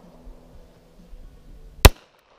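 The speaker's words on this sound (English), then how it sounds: "I'm gonna shoot" A single loud, sharp .45 caliber pistol shot cracks out at an outdoor shooting session, a sudden isolated bang after a stretch of low background murmur and rustle.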